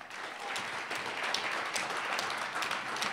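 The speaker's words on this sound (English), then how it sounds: "Clap harder." An audience at a trade union talk on climate change applauds, a continuous crackle of many hands clapping with a few sharper claps standing out, moderately loud and steady.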